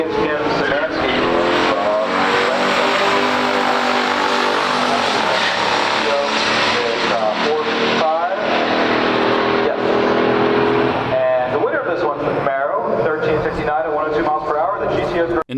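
A 1970 Chevrolet Camaro Z28 with the RS package and LT1 engine drag races a 1972 Pontiac GTO at a pure stock drag race, engines roaring loud and continuous with shifting pitch, while a voice talks throughout.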